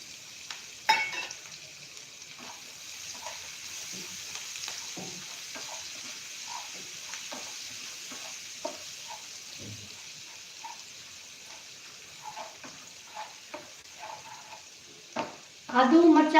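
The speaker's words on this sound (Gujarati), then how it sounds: "એમાં નાખીશું આપણે આદુ, લસણ અને મરચાંના ટુકડા." Ginger, garlic and chili pieces fry in a hot pan with oil, giving a steady sizzle throughout, with brief stirring clatters and a louder burst near the end.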